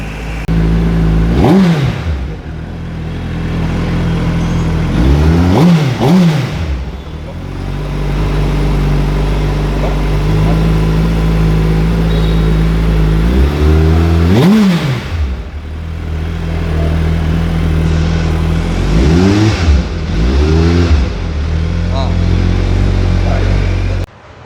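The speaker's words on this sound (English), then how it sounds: "We are just keeping it at idle so that the engine gets a little warm, and then we will give it a rev" A 2025 Suzuki Hayabusa motorcycle idles steadily up close, broken by several sharp revs that climb and fall back, two early ones close together and more bursts later, with no talking.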